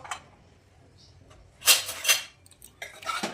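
Lid of a cooled pressure cooker being handled and opened: a few close metallic clanks and scrapes, with a couple of louder clattering bursts separated by quiet moments.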